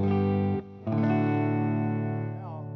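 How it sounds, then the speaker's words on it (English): An electric guitar plays clean, sustained chords through an amp with a very short cable, ringing out steadily, dipping briefly as one chord changes to the next, then fading slightly toward the end. "turn down to like about four and play some clean chords"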